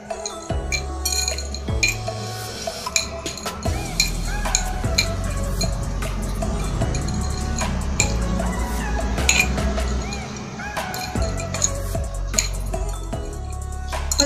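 Spoon clinking against a bowl while stirring Mie Sedaap Korean spicy chicken instant noodles: repeated close metallic taps and scrapes in an irregular rhythm, loud and continuous, with no talking.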